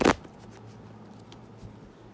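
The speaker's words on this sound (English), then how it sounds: "Let's get a good shuffle." Tarot cards being shuffled, a short sharp riffle at the start followed by soft faint rustling and handling.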